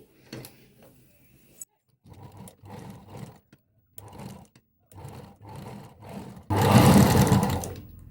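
A sewing machine stitches over piping around a heart-shaped blouse back neck, running in a series of short, even bursts before a longer, louder run at the end.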